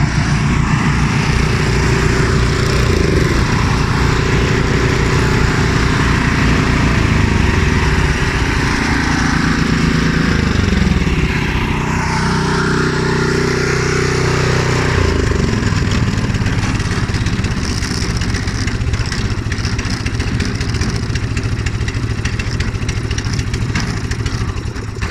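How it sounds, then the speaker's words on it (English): Several gasoline snow blowers run together nearby, a loud, steady droning engine chorus that holds for the whole stretch with slight shifts in pitch. "all my blowers running, possibly ready for this weekend when we might get some snow"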